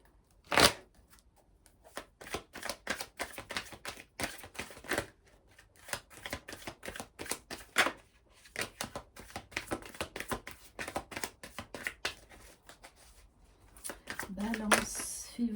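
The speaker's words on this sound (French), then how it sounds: "On va prendre quelques cartes du coup de cœur d'Amandine Bocquet." Tarot cards shuffled by hand in a quiet room, a long run of rapid riffling bursts and soft flicks at close range, with someone speaking at times.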